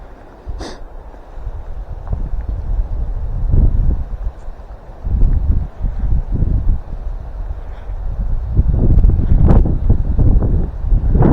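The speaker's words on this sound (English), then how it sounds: "I got to turn like this so the camera's not in the wind." Heavy, gusty wind buffeting the microphone on a pond bank in fall, loud low rumbles that rise and fall, with a few faint rustles in between.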